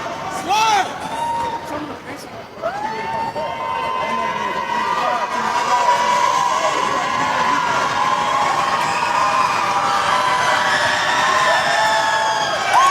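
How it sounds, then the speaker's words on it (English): A lively home crowd at a college basketball game in an arena cheers and shouts continuously, with whoops and children's yells rising over a dense babble late in a close game. "We got a pro Calhoun crowd here at UAH tonight. A lively crowd as well."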